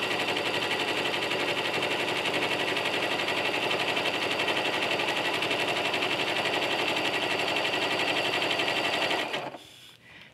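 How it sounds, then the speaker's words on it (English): A sewing machine runs a decorative quilting stitch in one steady, fast, continuous mechanical hum with rapid needle chatter, close and even, then stops abruptly near the end. "I'm going to set my foot right next to my line, and I'm going to start stitching."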